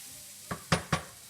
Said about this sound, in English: You add the meat in there, mix it up a little bit.